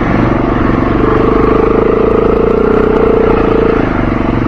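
Trail bike engines drone steadily and loud up close at a trail riding skills day, with a rising whine of revs held through the middle before easing off.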